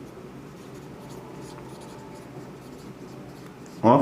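A pen scratches steadily on paper as prime factors are written out by hand during a maths lesson, soft and continuous, with a louder burst of scribbling at the very end.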